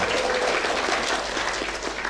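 Sustained applause from a graduation ceremony audience for the foundation chairman, a dense, steady wash of clapping filling the whole moment without a break.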